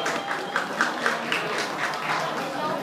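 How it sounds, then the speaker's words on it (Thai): Audience applause at a cosplay event at Comic X10 Summer 2013: steady, dense clapping with soft rhythmic swells throughout, moderately loud, with some voices mixed in. "ขอเสียงปรบมือด้วย"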